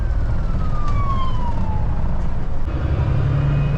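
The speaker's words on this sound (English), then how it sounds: "Just pull over for this ambulance coming through." An ambulance siren passes on US 41, heard from a truck on the road: a single wailing tone slides steadily downward as it goes by, moderately loud over constant heavy road and engine rumble, with no talking.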